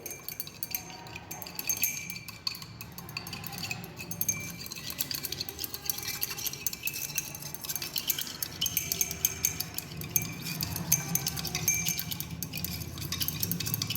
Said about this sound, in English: With the help of glass rod we are going to stir it.